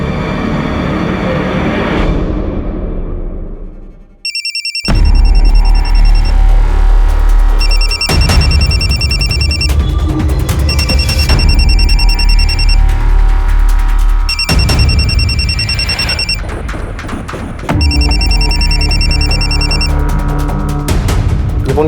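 A loud telephone rings in repeated bursts of shrill trilling, separated by short pauses, over a busy, heavy background rumble.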